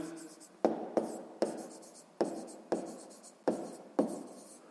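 Handwriting on paper during a math exercise, seven sharp pen strokes landing at an even pace, each followed by a short scratching tail, close and fairly quiet.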